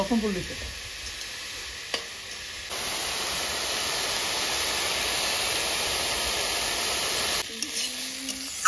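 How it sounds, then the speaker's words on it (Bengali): Banana blossom fries in a pan with oil, giving a loud, steady sizzle that starts abruptly partway through and holds evenly before cutting off near the end, with quieter stirring and scraping sounds around it. "কলার মোচা খুব ভালো করে ভাজা হয়ে গেছে"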